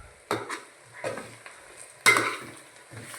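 Pigeon pea (tuver totha) dish being stirred in a pan, three or four distinct scraping strokes with a light sizzle, the last stroke loudest, with no talking.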